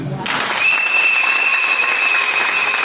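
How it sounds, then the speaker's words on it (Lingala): A church congregation breaks into loud, dense applause and cheering for Jesus during a Sunday service, with a long shrill whistle held above the clapping. "Est-ce qu'on peut l'acclamer?"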